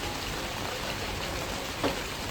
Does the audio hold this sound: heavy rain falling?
yes